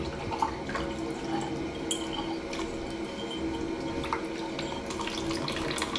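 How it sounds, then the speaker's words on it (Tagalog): Weak, low-pressure tap water runs steadily for washing dishes, a soft continuous trickle and splash into a sink with faint clinks, heard alone. "ang tagal natin makapaghugas kasi mahina ang tubig"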